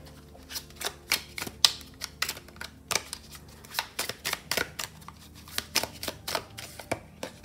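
Cards are riffled and snapped in quick, irregular bursts, a series of sharp papery flutters close by with quiet pauses between.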